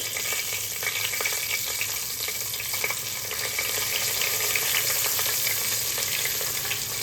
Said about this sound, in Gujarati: તો આપણે તૈયાર કરેલા ખડા મસાલા એમાં નાખી દઈશું આપણે ધીરે ધીરે